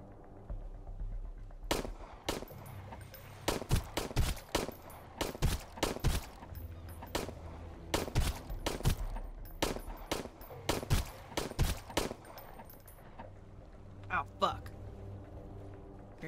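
Pistol fire in the survival video game Sunkenland crackles in sharp single shots and quick clusters across the stretch, punchy and loud with brief gaps between volleys, while a voice seems to talk over parts of it.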